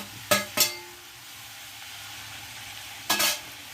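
Onions sautéing in a pan for egg roast give a low, steady background sizzle, broken by two quick utensil scrapes near the start and another louder stir toward the end, close by with no talk.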